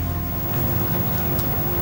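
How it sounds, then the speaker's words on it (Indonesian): A light drizzle patters steadily and densely on surfaces nearby, a continuous, even hiss with no pauses. "Gerimis gini."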